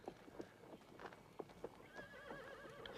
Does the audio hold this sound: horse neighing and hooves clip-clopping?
yes